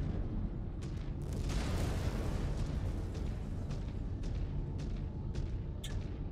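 Explosion in the mech combat video game MechWarrior 5: Clans, a loud sustained rumbling blast with scattered cracks and pops on top, no talking.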